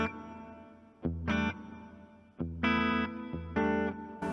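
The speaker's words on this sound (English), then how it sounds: "the Glitz reverb in Helix has a 44 millisecond pre-delay where I've got it set" Electric guitar through a Glitz reverb on a Helix HX Stomp, set with a 44 millisecond pre-delay: four or five strummed chords ring out with a shimmering, washy tail that lingers between strokes.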